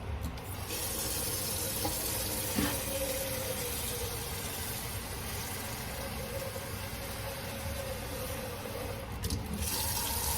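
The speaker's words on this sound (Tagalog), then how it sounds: "maglagay tayo ng tubig dito." Water pours steadily into a cooking pot while a vegetable soup is being made, a continuous close rush of flow lasting about ten seconds without a break.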